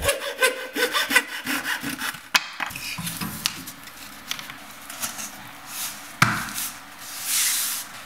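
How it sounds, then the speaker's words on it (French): Fine-tooth hand saw cutting through a cork floor plank, with rapid rasping strokes in a steady back-and-forth rhythm, close and moderately loud, pausing briefly between bursts. "Puis, tu découpes avec une scie à fines dents la lame dans l'espace le plus court."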